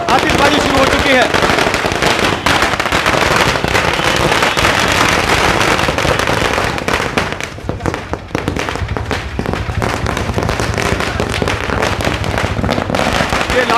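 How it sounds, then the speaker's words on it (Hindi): Dense, loud firecrackers bursting nonstop at a bus stand celebration in Ladnun, a rapid crackling barrage with voices buried beneath the din. "लाडनू बस स्टैंड पर आतिशबाजी शुरू हो चुकी है"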